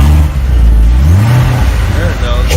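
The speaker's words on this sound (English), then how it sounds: "You hear that supercharger whining? Don't rev it too much, the engine is shaking" A wrecked-and-rebuilt Corvette Z06 with a supercharger revs loudly and close, a rising mid-pitched engine drone with a faint whine on top, under continuous overlapping voices.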